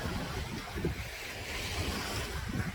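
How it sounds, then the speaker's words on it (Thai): Sea waves wash onto an empty, quiet beach at Hua Hin, Thailand, a steady broadband roar of surf mixed with gusting wind buffeting the microphone, continuous and fairly close with no voices. "นี่เห็นไหม ติดทะเลเลย"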